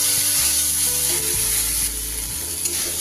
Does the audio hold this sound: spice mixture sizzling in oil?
yes